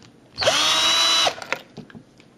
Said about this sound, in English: I'm using a drill just to get nice downward pressure on it